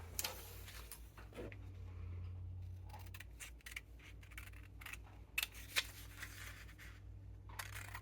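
Quiet snips and paper rustles as scissors cut out a sewing pattern for a set-in sleeve, with a faint low hum beneath and a couple of sharper clicks near the end.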